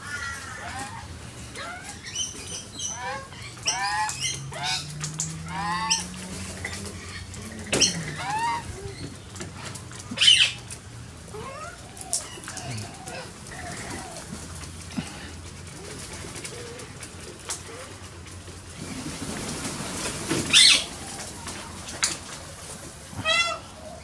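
Magpies and peewee larks call outdoors in a mix of warbling phrases and sharp repeated notes, some near and loud, others fainter in the background, with occasional bumps and rustles.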